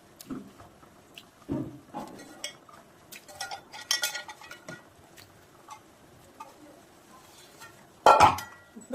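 Korameenu fish pieces are stirred into a pot of fish curry with a spoon, giving scattered clinks and scrapes against the pot, separated by quiet pauses. A louder clatter comes near the end.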